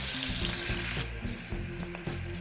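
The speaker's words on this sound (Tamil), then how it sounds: "வெங்காயம் வந்து நல்லா வதங்கட்டும்." Onions sauté with green chilli and ginger-garlic paste in a pan for coconut milk kuska, a dense close sizzling hiss over a low steady stove hum.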